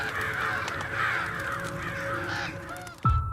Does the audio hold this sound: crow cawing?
yes